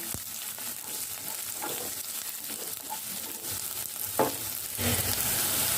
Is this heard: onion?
yes